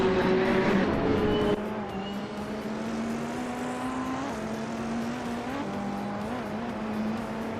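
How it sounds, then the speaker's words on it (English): A 2012 Aston Martin Vantage GTE race car in a racing video game drones along under sustained engine tone, shifting pitch as it accelerates and upshifts, with a louder burst at the start before settling into a steady hum. "Zikapal is driving a 2012 Aston Martin Vantage GTE"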